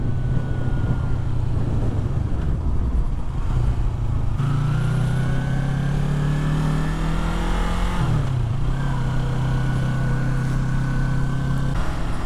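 A Yamaha MT-03 motorcycle being ridden, its engine droning steadily and loud with a rising pitch as it accelerates, a brief dip and shift around a gear change, then a steady pull again, with wind rush throughout and no talking.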